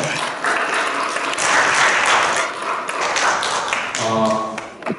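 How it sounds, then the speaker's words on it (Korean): Church congregation applauding youth-group students during a Sunday worship service, a dense wash of clapping that swells and holds for several seconds, with a brief tonal sound near the end. "우리 학생들 한 번 박수를 격려할까요?"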